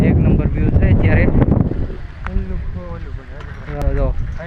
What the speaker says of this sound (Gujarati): જો મસ્ત મજાનો પવન અત્યારે આવે છે અહીંયા.